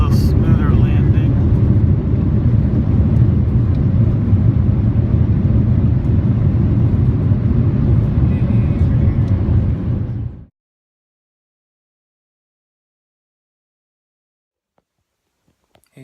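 An airliner cabin just after landing fills with a steady, loud engine and air roar for about ten seconds, then cuts abruptly to near silence.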